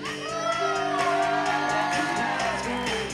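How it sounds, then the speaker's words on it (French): A crowd at a 2019 gala cheers, whoops and shouts for a group of girls, a loud, dense and sustained wall of voices with music-like tones underneath. "un tonnerre d'applaudissements pour les filles"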